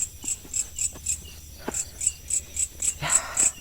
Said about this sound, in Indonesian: Suasana di pemakaman pasti selalu dihiasi sama hewan-hewan ya, seperti jangkrik.